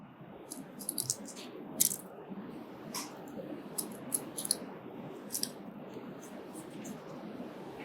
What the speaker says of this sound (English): Be very careful as you use your scissors.